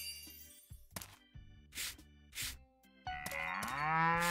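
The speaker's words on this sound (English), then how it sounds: "Oh, look at my cows." Cows in the farming video game Story of Seasons moo in a handful of drawn-out calls, separated by short pauses, with a final long low moo, fairly quiet and with no talking over them.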